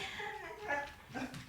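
A small dog whimpers in short, thin, high-pitched whines, faint and close, with no talk over it.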